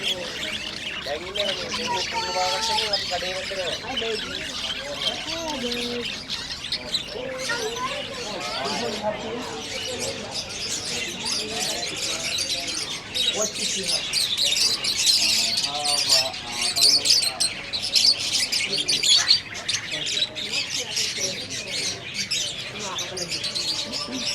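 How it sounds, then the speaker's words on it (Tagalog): Many birds chirp and squawk together at a bird market in Doha, a dense, continuous chorus of overlapping calls heard close by, with people talking throughout. "Ang daming birds. Dito sa bird market."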